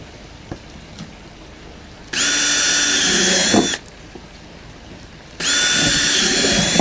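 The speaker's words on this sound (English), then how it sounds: "All the way around now, I've drilled the holes down all the sides." A power drill bores holes through the side of a plastic pond bin in two loud, sustained bursts of whining, grinding drilling, with quieter handling in the gaps between them.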